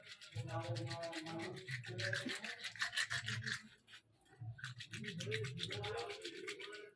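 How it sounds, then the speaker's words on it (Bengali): Tengra fish being rubbed and washed by hand, repeated rasping scrubbing strokes in quick rhythm, close and fairly quiet, with a short pause midway. "এই ট্যাংরা মাছগুলো সুন্দর করে ঘষে ধুয়ে নেব"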